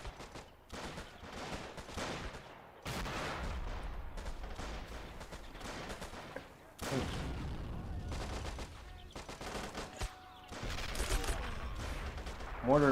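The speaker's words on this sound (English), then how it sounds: "Mortar being used to great effect, picking out more of those Jaegers." Mortar fire on Jaeger infantry during a real-time tank and infantry video game battle: repeated heavy thuds and bursts with rattling gunfire in clusters, separated by brief lulls, fairly quiet overall beneath a commentator's voice.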